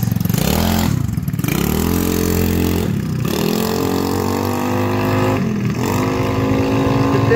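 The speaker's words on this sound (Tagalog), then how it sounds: "start na yung motor natin guys" Restored Yamaha Mio Sporty scooter engine running loud and close, revving repeatedly, with its pitch sweeping up after brief dips between the throttle blips.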